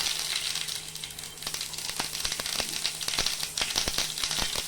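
Dried red chilies and whole spices sizzle in hot white oil left over from frying fritters, a steady close hiss broken by scattered sharp crackles and pops.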